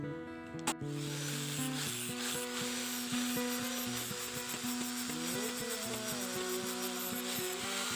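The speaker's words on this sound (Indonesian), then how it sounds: "Setelah agak terbentuk kita ratakan pakai amplas susun" Steady rubbing and rasping of sandpaper against the edge of a forged machete blade, continuous and close, with a faint musical tone ringing underneath.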